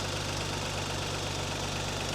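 A Porsche 924 Turbo engine runs steadily at idle, loud and close, with a light clickety-clackety ticking in its rough mechanical drone.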